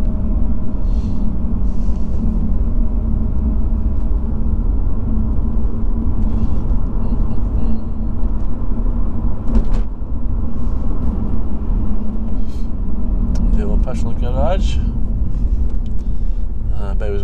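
Inside a Lotus Evora in normal drive mode on the Blakey Ridge road in England: a steady low engine and road rumble continues throughout at an even level, with a few brief lighter sounds toward the end.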